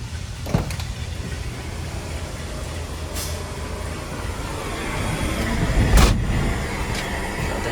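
A restored 1977 Ford F150 4x4 short-bed pickup drives along, its engine a steady low rumble with road noise that swells slightly near the end, plus a few brief clicks and knocks from the cab.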